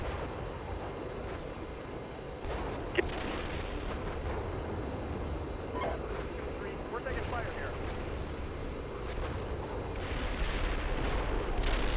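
Distant artillery and gunfire in the tank simulator Steel Beasts Pro PE, a steady rumbling barrage with scattered sharp reports, voices talking over the battle.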